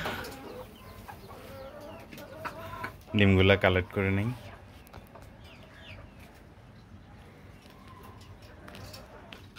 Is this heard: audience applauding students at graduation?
no